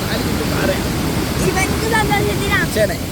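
A powerful waterfall on the Idukki–Kattappana route, a loud, steady roar of strongly falling water with voices talking over it.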